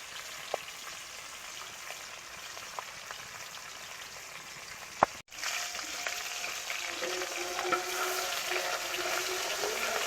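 Food fries in oil with a quiet, continuous crackle. A few sharp clicks come early, and the sizzle grows fuller and louder in the second half.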